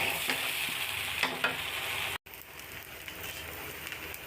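Rice, lentils and vegetables frying for khichuri, a steady close sizzle with stirring scrapes throughout and a brief break near the middle.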